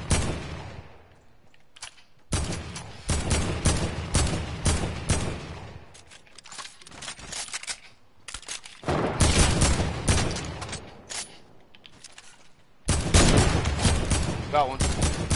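Bursts of video game gunfire in a PS4 shooter, loud clustered volleys separated by brief lulls, with a heavier sustained barrage near the end.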